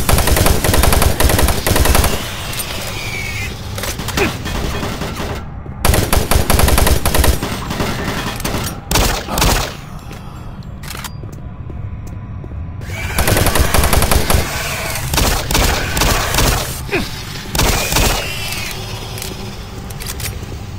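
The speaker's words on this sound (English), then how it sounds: "But apparently the guns are still pretty loud." Loud weapons fire in Doom 3, with rapid automatic bursts and heavy shots arriving in several clusters, separated by quieter stretches of game ambience.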